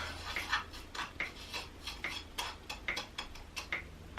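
A homemade incense mixture is stirred in a container, a steady run of small scraping ticks and clinks repeating at a brisk, even pace, close and fairly quiet, with no talking.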